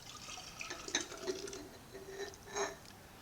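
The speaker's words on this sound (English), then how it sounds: "Alright, we'll take the next one and pour it in." Apple juice being poured into a container for making apple wine, a faint trickling and splashing with scattered drips, close by and without talk.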